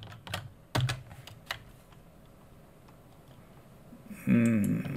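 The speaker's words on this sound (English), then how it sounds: "Let's type in the Netziv of Volozhin" Keys on a computer keyboard click in a few sharp taps early on while a web search is typed, followed by quiet room tone and a short louder burst near the end.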